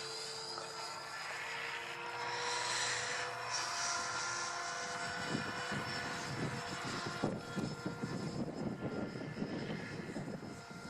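An E-flite F-15 model jet flies overhead in wind, its steady high-pitched whine holding fairly loud and continuous for about eleven seconds, with rougher gusty noise building toward the end.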